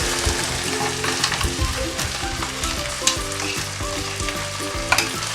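Lentil paste frying with ginger paste in a pan, a steady close sizzle broken by the repeated scrape and knock of a spoon stirring, with no voices.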